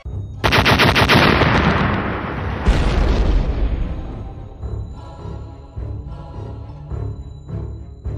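A Minecraft explosion erupts in a loud, sustained roaring blast. It starts abruptly, surges again midway, then trails off into rumbling debris and scattered pops.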